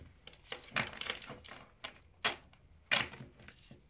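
Tarot cards being shuffled and laid out for a nine-card spread make soft, close crisp flicks, snaps and papery slides in irregular bursts, fairly quiet, with no speech.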